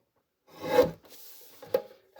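Paper cardstock card base being trimmed at the bottom, two separate rasping cuts about a second apart, close and fairly quiet with no talking.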